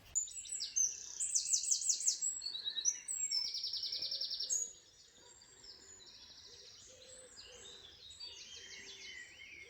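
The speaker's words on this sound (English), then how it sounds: "I'm greeted with birdsong." Dawn birdsong carries beside a river at a bushcraft camp: a loud, close run of repeated trilling phrases, then fainter, more scattered chirps over quiet ambience.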